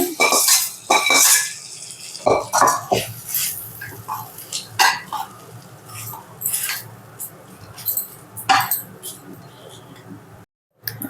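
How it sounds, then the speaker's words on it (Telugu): Fried tempering is stirred into cooked rice in a pot for gongura pulihora, with a spoon making repeated small scrapes and clinks against the pot while a person talks over it. "ఇప్పుడు ఈ తాలింపుని రైస్లో వేసుకొని మిక్స్ చేసుకోవాలి"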